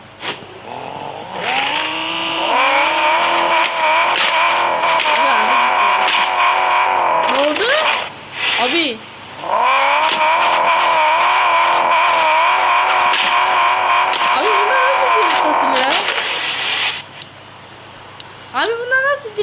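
A car engine with a damaged gearbox revs hard in long, loud, sustained whining pulls that rise and fall, broken by a couple of short drops, and a voice speaks over it.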